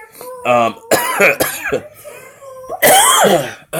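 Several harsh coughs and throat-clearing bursts in close succession, loud and near, with brief pauses between them.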